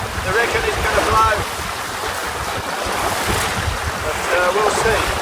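A small trailer sailer sailboat under sail at about six knots, with steady wind rushing across the microphone and waves washing and slapping against the hull, loud and continuous with no break.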